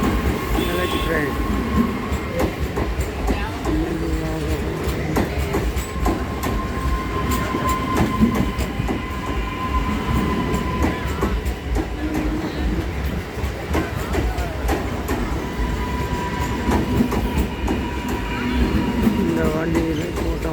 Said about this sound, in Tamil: Electric train.